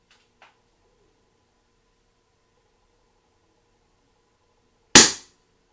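Single sharp report from an Air Arms S510 XS TDR air rifle fired with its shroud fitted, a crisp close crack that decays quickly after a long quiet stretch with only a faint click near the start.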